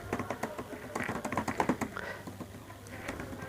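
Someone types on a computer keyboard during a typing speed test, a quiet run of rapid, uneven key clicks in bursts, heard close and alone with no talking.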